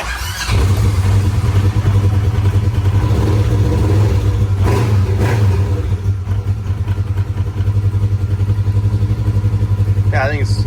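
A Polaris RZR XP 1000 engine idles after its fuel pump was fixed, a steady close rumble with a brief rise partway through and faint clatter.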